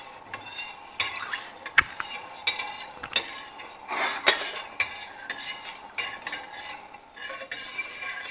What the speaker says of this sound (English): You have to stir, always stir, unless it boils, get too strong bubble.